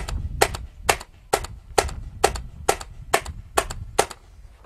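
A TECHT MRT Phenom bolt air gun firing a string of test shots, nine sharp close cracks at an even pace about half a second apart, each with a brief thud and quiet in between.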